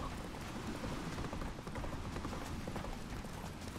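Horse hooves clip-clop steadily in The Witcher 3: Wild Hunt, set among Skellige's game ambience, as a continuous moderately loud trotting rhythm under a dense background wash.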